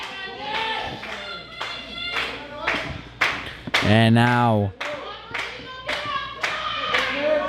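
Applause from a professional wrestling crowd at a tag team championship match, sparse claps rising under an announcer's commentary, with a brief loud shout in the middle.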